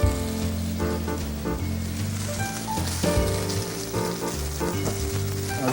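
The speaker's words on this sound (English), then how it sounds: "And we're going to sear that off" Pork tenderloin searing in olive oil in a hot pan, a steady loud crackling sizzle like heavy rain throughout, with faint background music and no talk.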